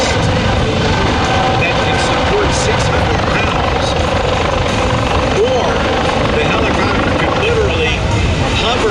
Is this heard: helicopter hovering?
yes